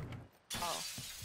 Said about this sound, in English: I heard glass breaking.